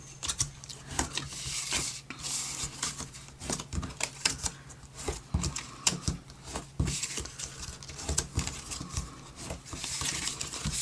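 A bone folder pressed along paper folds while making a hexagon gift box from cardstock, giving a steady run of soft close scraping, rubbing and crinkling strokes with no talk.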